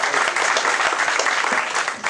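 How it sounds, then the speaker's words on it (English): Audience applause at a county commissioner candidate forum, a dense steady wash of clapping filling the room for about two seconds before tapering slightly at the end. "I'd like everybody to give Woody a round of applause"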